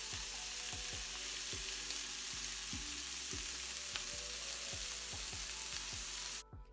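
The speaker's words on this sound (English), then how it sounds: "you're just going to put each patty in the pan and let it cook to maybe medium well" Salisbury steak patties fry in a pan with a steady, close sizzle and repeated crackling pops, no one speaking, before the sound cuts off abruptly.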